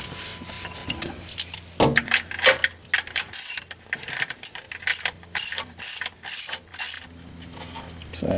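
A ratchet loosening the oil drain plug on a 2009 BMW X6 E71 35i, with a quick series of close, sharp clicking turns in short bursts and pauses between strokes.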